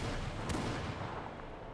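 Gunfire in a first-person shooter video game rings out as a loud, dense burst with a sharp crack near the middle, over a steady rumbling background.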